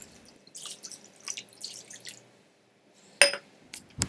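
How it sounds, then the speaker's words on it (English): Water is poured into a pot holding daikon radish, giving soft intermittent splashes and trickles, then a brighter clink and a final splash near the end. "we are going to place the daikon in the pot and then add water"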